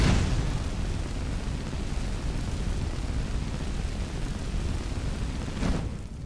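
A fire spell cast in the Skyrim video game, a steady loud roaring whoosh of flame that holds for several seconds with a brief flare near the end.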